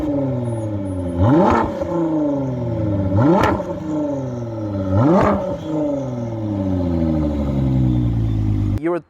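A Ford GT with a changed exhaust revs hard three times in quick succession, each surge rising and dropping back to a loud, close idle that is cut off sharply at the end.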